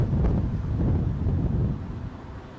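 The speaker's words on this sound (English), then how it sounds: "Wind's picking up." Strong wind buffeting a microphone beside the runway at Newcastle airport during Storm Kathleen, low gusty rumbling that is loud at first and eases off toward the end.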